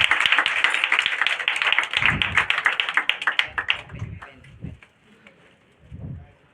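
Award ceremony for Bihar Board district toppers, an audience clapping in a dense burst that thins into scattered claps and fades, with a few louder single claps near the end.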